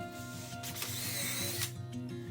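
An impact drill rattles in short bursts, its hammering whir rising and falling as it drives a 3.5-inch screw into hard maple, close up with no talk.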